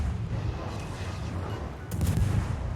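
Naval guns of an Akizuki destroyer firing in World of Warships, heavy rolling booms with a sharper blast near the end, loud and close, no talking.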